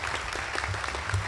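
Several people applaud together at a community breakfast gathering, a steady, dense patter of hand claps filling the whole moment at moderate volume.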